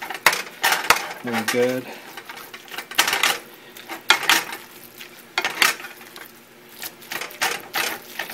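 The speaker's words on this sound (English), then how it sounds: "And we're just going to stir it all up" A spoon stirs quinoa taco filling in a pan, giving repeated clinks and scrapes against the metal at close range, with a few quick words spoken over it.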